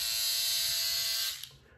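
A Philips OneBlade electric razor buzzes steadily through a first shaving pass, a dense high-pitched hum that holds for over a second and then cuts off abruptly.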